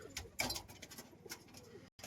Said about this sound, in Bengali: পিছনে যেটা ডাকছে এটা কিন্তু মেল পায়রা